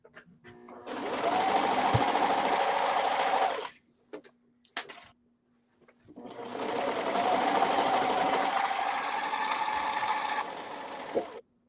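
A serger sewing machine stitching fabric, running in two long, loud, steady bursts of fast whirring with a short quiet pause between them, and only light handling noise in that gap.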